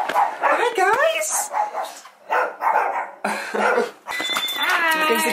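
Guard dogs bark in a few short bursts close by, mixed in with lively talking voices and some laughter.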